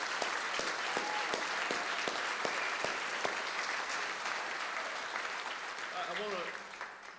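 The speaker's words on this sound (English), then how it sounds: "Let's give one more round of applause for our inductees tonight." Audience applause for hall of fame inductees at an alumni ceremony, a sustained wash of clapping with sharp individual claps standing out, fading near the end as a voice begins.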